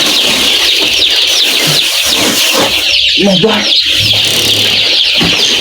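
Many six-day-old brooding chicks chirp in a constant high-pitched chorus, loud and close, while a voice briefly speaks underneath.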